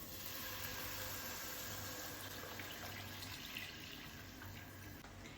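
Milk poured into a pan of ghee-sautéed pumpkin for payasam: a faint, continuous liquid pouring and splashing wash that holds steady throughout, with no talk.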